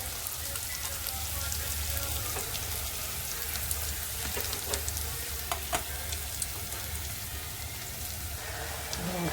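A ground paste of ginger, garlic and tomato fries in a pan over a low flame, giving a dense, steady sizzle close by. Small clicks and taps from stirring come through now and then.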